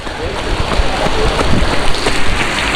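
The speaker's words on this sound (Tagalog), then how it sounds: "Mumuhos pa uli ulan." Heavy rain pouring on runners during a marathon in Bulacan, a loud, dense, continuous roar of drops hitting the road and surfaces close by.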